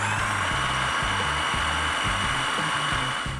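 A food processor whizzes up a herb paste for salmon with a steady, loud motor whine that runs without a break, and the blades churn with a pulsing rhythm.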